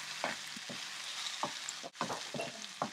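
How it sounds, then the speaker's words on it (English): Vegetables sizzle steadily in a pan for cranberry vegetable rice while a utensil stirs them, with several distinct scraping strokes over the continuous frying hiss. "Give it a quick stir."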